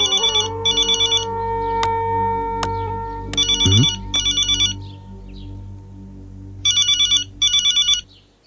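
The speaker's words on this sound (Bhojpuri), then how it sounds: "आ गेल तो देवरन का फोन" A telephone rings with an incoming call in a Bhojpuri family drama, sounding in three loud, separated bursts of rapid electronic trills with pauses between them and no talk over them.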